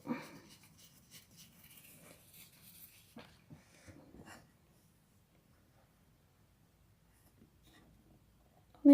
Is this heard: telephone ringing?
no